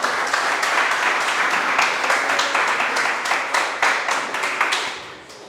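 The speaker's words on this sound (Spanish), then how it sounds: "Dele un fuerte aplauso al Señor." A church congregation gives loud, sustained applause during a worship service, with dense clapping close by and some sharper individual claps standing out before it tapers off near the end.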